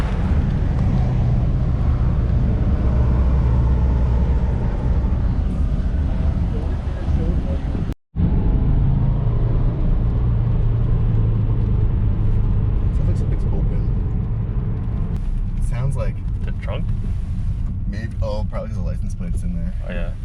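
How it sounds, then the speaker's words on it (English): A used Subaru car drives on a test drive, with steady engine and road rumble filling the cabin, a brief cutout midway, and people talking over the noise. "We're gonna take the car for a test drive right now."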